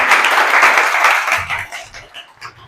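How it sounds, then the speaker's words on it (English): Audience applause at a builders' meetup, a dense burst of clapping that starts loud and gradually thins out over a few seconds, with faint voices murmuring underneath. "Let's give a round of applause"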